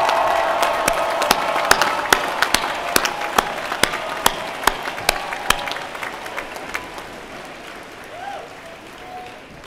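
A large graduation crowd claps and cheers outdoors, a broad wash of applause punctuated by sharp, regular claps up front that gradually thins and fades, with a faint voice near the end.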